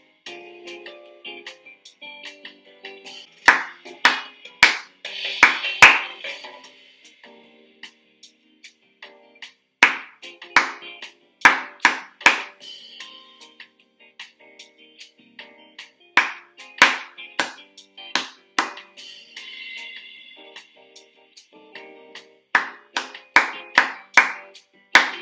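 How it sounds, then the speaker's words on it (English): Hands clap out short rhythmic patterns in a music lesson, sharp close claps in groups with brief pauses between rounds, no talking. "If you clap that one back, we need to make sure that we remember that rhythm."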